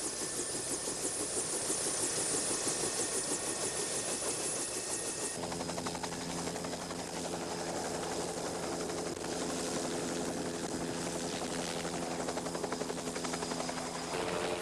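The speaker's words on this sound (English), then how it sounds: "The convoy of 4 helicopters flies toward the mountain." A convoy of four rescue helicopters flies toward Mount St Helens in 1980, a loud steady rotor chop and engine whine throughout, shifting in tone partway as the aircraft pass.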